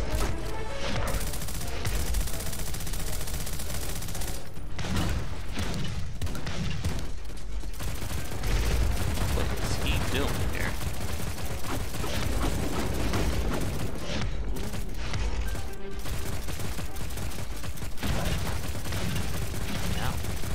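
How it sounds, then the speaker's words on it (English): Grenades burst nonstop in Hellmut: The Badass From Hell, a dense, loud barrage of explosions and rattling fire filling the whole stretch, with some voice mixed in. "When in doubt, just fill the screen with grenades."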